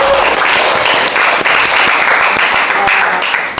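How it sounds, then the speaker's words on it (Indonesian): A classroom audience of teachers in training applauds at the end of a group presentation, with dense, steady clapping from many hands that stays loud and continuous throughout. "Aplaus buat kita semua"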